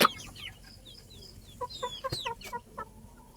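An eight-month-old gamecock rooster with a bright red face gives a few short, sharp clucks close by, spaced irregularly over a quiet yard background with one brief louder burst.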